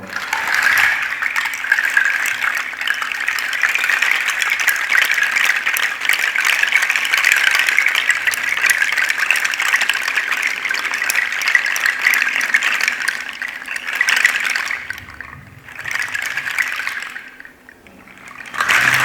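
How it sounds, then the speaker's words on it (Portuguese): Steady, dense shushing of water-like grains from a shaken water rattle, sustained for most of the stretch, briefly thinning and dipping twice near the end, with no voices. "pode ser esse som, alguns chocalhos, são vendidos pelos povo nativo"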